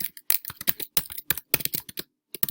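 Rapid typing on a computer keyboard, uneven bursts of close, crisp key clicks with short pauses between, no voices.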